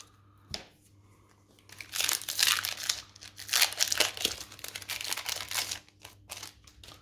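Foil wrapper of a Strixhaven School of Mages Magic draft booster pack crinkles and tears as it is opened, a sharp burst followed by several seconds of close, busy rustling, fading near the end.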